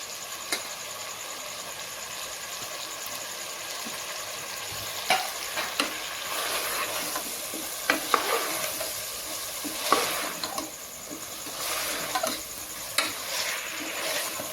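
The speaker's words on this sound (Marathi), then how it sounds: "याच्यात आपण आता हे सोयाबीन वडी टाकून देऊ" Soya chunks are stirred into a sizzling vegetable biryani in a pan, a continuous close frying hiss broken by irregular clacks and scrapes of a spoon against the pan.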